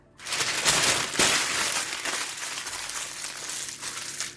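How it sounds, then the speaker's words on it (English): Parchment paper crinkles and crushes steadily at close range, a dense continuous crackling as it is balled up tightly, with no voices. "Crumple it up in a tight little ball."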